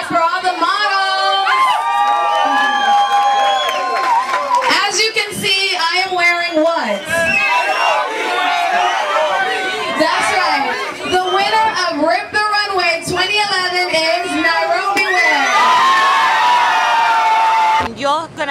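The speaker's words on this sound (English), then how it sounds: "Can we give a round of applause for all the models?" Audience at a fashion show of models at a community event responds with cheering, whoops and crowd noise, loud and sustained throughout, with excited voices and music-like tones mixed in.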